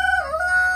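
A rooster crows close by, a single short, loud, tonal cock-a-doodle-doo fragment that holds steady and clear with nothing else heard.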